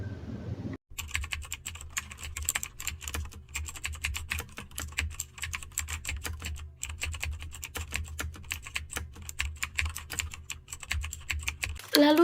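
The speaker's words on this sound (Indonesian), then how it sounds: "Lalu Sayuti Melik mengetik naskah tersebut dan memberikan hasil ketikan tersebut kepada IR Soekarno untuk ditandatangani." Rapid, continuous keystrokes as the Indonesian proclamation manuscript is typed in a short film scene, a dense, uneven patter of clicks running for about eleven seconds without pause.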